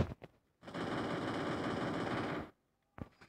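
Automatic gunfire in the video game Free Fire: one sustained burst of rapid shots lasting about two seconds, loud and close, with brief clicks before it and a short sound after a pause.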